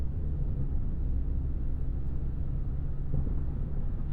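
Inside the cabin of a 2026 Chevy Silverado 1500 with the 2.7-litre TurboMax engine at highway speed: a steady low road and wind rumble, even and unbroken, with no talking.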